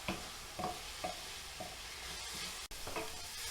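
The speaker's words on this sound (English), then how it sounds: "You just want to fry these off to give them a bit of colour and a bit of flavour." Grated onions frying in a pan for a cottage pie, a soft steady sizzle with a handful of spatula scrapes at a relaxed rhythm, quiet and close with no talking.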